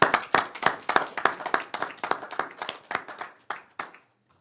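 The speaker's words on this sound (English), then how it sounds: "I know we usually don't clap" Claps break out at a city council meeting in Riverton, Wyoming: a few people clap in a brisk, uneven patter that thins out over a few seconds and stops, leaving silence.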